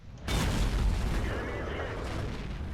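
A tank gun fires in a tank video game, one sudden heavy boom that rolls into a long, loud, noisy rumble which slowly fades.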